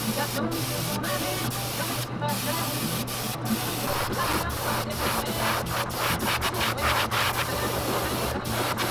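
An airbrush hisses in steady bursts while burnt orange paint is sprayed onto a jointed-pincher crawdad crankbait lure, close and continuous with brief pauses, under a voice.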